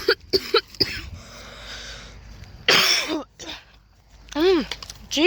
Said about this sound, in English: jeez, coughing.